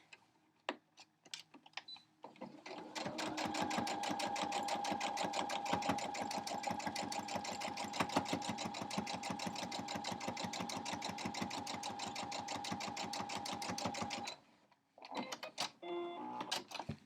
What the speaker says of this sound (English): hang that over the edge a little bit and start sewing